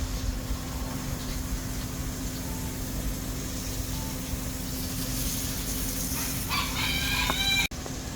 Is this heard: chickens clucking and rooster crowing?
yes